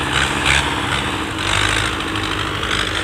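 A tractor engine runs steadily on a snowy mountain road between Kalam and Bahrain, giving a loud, continuous buzzing drone with no talking.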